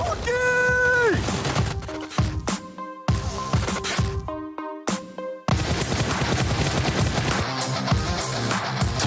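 A grenade goes off in PUBG Mobile during a pro league match, a loud burst with crashing debris set among blasts of gunfire and game sounds.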